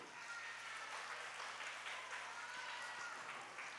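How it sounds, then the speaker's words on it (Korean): Children clapping at a children's prayer gathering, a faint and distant, even wash of applause that carries on steadily throughout. "여기서 박수."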